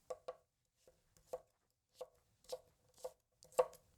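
A Tojiro DP kiritsuke knife julienning carrots on a cutting board makes sharp, quiet taps, about a dozen in an irregular rhythm, some in quick pairs, close and alone.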